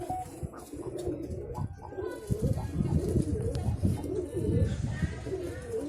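Pigeons coo repeatedly in low, throaty rolls, close by and overlapping throughout, with faint chirps in the background.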